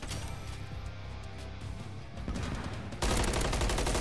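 A Godzilla-styled weapon fires in the Modern Warfare 3 video game as continuous dense gunfire and heavy blasts, loud and constant, growing stronger and more booming toward the end.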